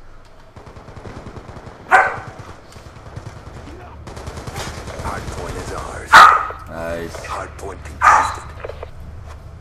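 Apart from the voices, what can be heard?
dog barking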